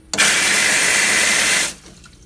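A loud rush of water pours out through the blowdown of a water well retention tank, starting abruptly, holding steady for about a second and a half, then cutting off.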